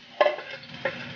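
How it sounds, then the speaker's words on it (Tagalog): Garlic sautéing in a pan, two short bursts of sizzle and stirring close up, the first louder, with a quiet gap between and no talking. "So, syempre, pag nagigisa, inauna po yung bawang."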